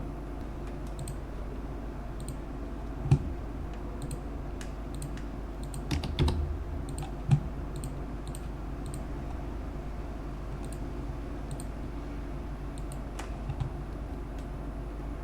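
Typing on a computer keyboard while entering owner details into a tax assessment form, steady close key taps with a few louder strokes, running throughout over a constant low hum, no speech.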